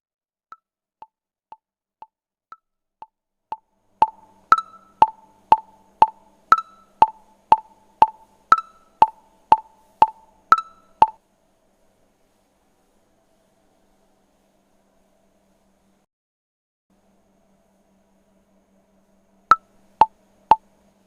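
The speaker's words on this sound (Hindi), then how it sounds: "100 के मेट्रोनोम के साउंड पे ये टिक टिक को कैप्चर करता है या नहीं।" A metronome ticks at 100 bpm, giving clear, evenly spaced sharp clicks that grow louder over about eleven seconds and then stop. After a long silence, a few more ticks come at the end.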